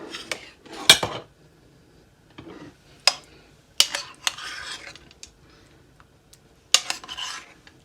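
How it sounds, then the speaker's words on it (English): A spoon clinks and scrapes against a pot and plate as gravy is ladled over meatballs, several sharp separate taps and scrapes spread out between quiet gaps, close and without talk. "I'm just going to spoon some of the gravy over first."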